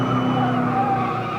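Cars skidding and racing on a public street used as an illegal drag strip, a sustained loud tire squeal over a roaring engine, close and continuous.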